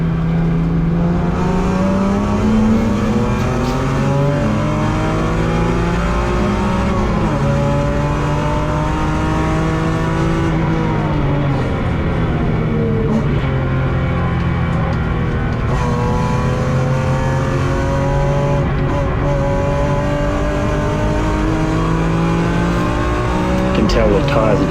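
A BMW race car laps the Hampton Downs circuit in qualifying, its engine loud and steady from close by, rising and falling in pitch through gear changes and revs, with a voice speaking over it.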